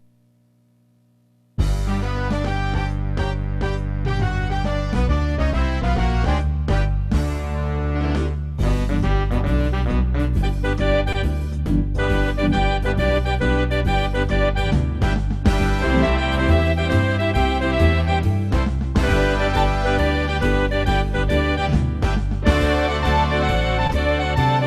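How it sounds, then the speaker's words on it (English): Keyboard arranger playing a swing big band style, with full brass-like chords and a steady upbeat rhythm section, loud and continuous after a short silent start. "If I just pull up the regular big band style, you get something called swing band."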